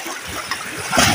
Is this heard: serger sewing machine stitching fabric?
no